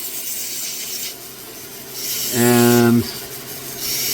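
A fire agate stone is sanded through successive grits on a rotary tool at about 7,000 to 8,000 RPM, giving a steady rubbing hiss with a louder pitched whine for about half a second; a brief spoken word is heard.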